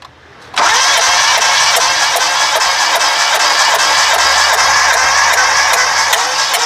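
A car engine cranks steadily during a compression test with a gauge fitted, after a brief quiet lead-in, giving a loud, continuous, rhythmic starter churn close to the listener for several seconds.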